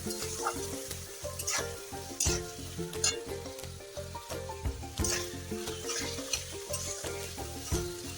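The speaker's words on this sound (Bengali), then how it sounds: "এটা এবার আমি তড়কাটা যে মশলাটা দিয়ে হবে সেটা একটু ভাজা ভাজা হবে।" Tadka spices fry in a pan for eggless tadka dal, a crackling sizzle with rhythmic spoon stirring and scraping, close and fairly quiet.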